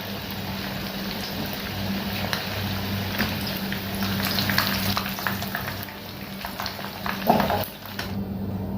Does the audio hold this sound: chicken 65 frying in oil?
yes